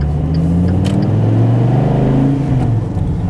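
A 2014 SRT Viper GTS accelerating from inside the cabin: a deep, steady engine drone rising in pitch as revs build, loud and close throughout with no talking.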